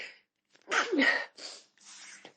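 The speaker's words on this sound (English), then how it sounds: "hold on, I got to sneeze" A single sneeze, close and loud, with a sharp intake of breath and a burst of air, followed by a couple of softer sniffs and breaths.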